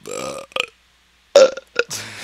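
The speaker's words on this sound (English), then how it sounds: "I have to burp." A loud burp rings out alone at the start, a second short burp follows, then a pause and further burping bursts, with talk mixed in near the end.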